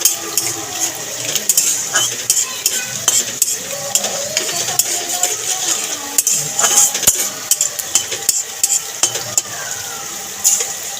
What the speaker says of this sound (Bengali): দিয়ে দিলাম আদা কোচানো, নেড়ে চেড়ে ফোড়নটাকে ভেজে নেব।